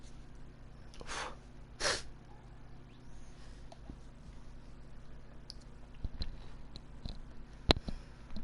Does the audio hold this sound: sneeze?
yes